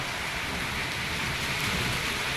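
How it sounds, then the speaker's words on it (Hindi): Heavy unseasonal rain pours down steadily, a dense continuous hiss of drops on surfaces, loud and unbroken with no talk. "यहाँ बेमौसम बारिश हो रही है, बहुत ज़्यादा बारिश हो रही है।"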